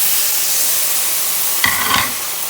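Dry white wine poured into hot oil in a pan, a loud continuous hiss and sizzle with a short burst of bubbling crackle near the end.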